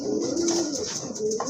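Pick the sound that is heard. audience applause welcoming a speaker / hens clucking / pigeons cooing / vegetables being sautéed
pigeons cooing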